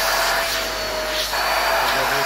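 Loud, steady roar of an ash vacuum cleaner running close by while cleaning soot and ash from a tiled ceramic stove, a constant whooshing drone throughout.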